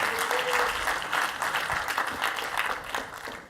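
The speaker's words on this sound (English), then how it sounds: "can we give just a big round of applause for Justin" Audience applause for co-author Justin at a cloud native infrastructure talk, a steady wash of clapping from a crowd that holds for a few seconds and tapers off at the end.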